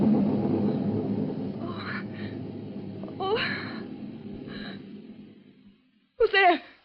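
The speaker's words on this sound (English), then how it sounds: "It was only thunder." Thunder rumble sound effect in an old-time radio thriller drama: a deep, low roll that slowly fades over several seconds while a voice and breaths sound over it.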